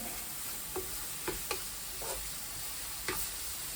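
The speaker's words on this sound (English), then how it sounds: "So we're just going to let this cook off a little bit, a few minutes, until the onions become soft" Onions and garlic paste frying in a pan, a steady low sizzle with a few soft stirring scrapes and clinks scattered through it, heard alone without voices.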